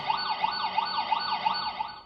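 An emergency vehicle siren, picked up through car window vibration and cleaned by adaptive filtering, wails in quick repeating rises and falls, clean and steady with little background noise, no voices.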